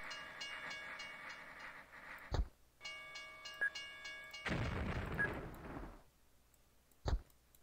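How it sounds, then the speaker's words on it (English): A train rolls past in OpenTTD (Open Transport Tycoon) with a long steady whistle-like tone, then a loud rushing rumble, with sharp clanks between. "So here comes the train now"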